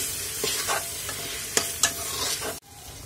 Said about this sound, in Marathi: तर आता आपण हळद आणि गोडा मसाला घालून घेणार आहोत आणि छान याला मिक्स करून